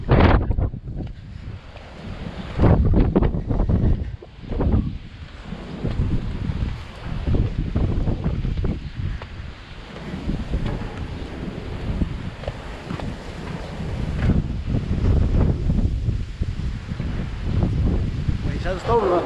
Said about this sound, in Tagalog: May sandstorm na